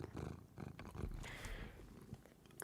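A cat purrs close up with a low, rumbling rhythmic drone, fairly quiet, with a brief breathy hiss in the middle.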